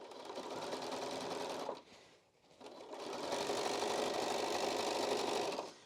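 A sewing machine stitches a hem on a child's apron using a hemming foot, running in a fast close whirring rattle, pausing briefly near the middle, then resuming.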